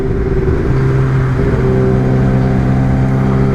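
Kawasaki ZX-10R motorcycle engine on a morning commute ride, a loud steady drone with faint rising tones as the revs climb slightly, heavy constant rumble and wind, no voices.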